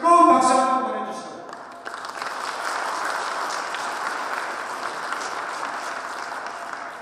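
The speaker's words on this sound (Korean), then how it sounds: "뜨거운 박수 한번 보내주시오." Audience applause at a Korean hometown association's chair inauguration ceremony. A speaker's voice is followed by a steady, even burst of clapping from the crowd that lasts several seconds.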